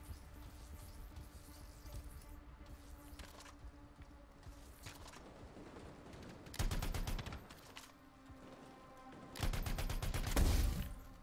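Enemy gunfire in the video game Anthem comes in bursts of rapid shots. There are a couple of louder volleys in the second half, over a low game soundscape.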